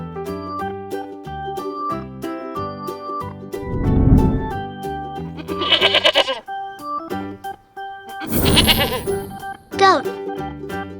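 Goat bleating in several loud, wavering calls over a light musical backing with regular plucked notes, the cries rising and falling in separate bursts.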